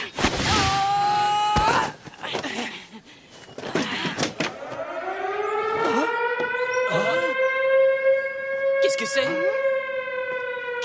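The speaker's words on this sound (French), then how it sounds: "C'est une alarme." A wailing alarm siren rises and holds steady in an animated sports film, loud and sustained, with voices speaking over the start and brief interruptions.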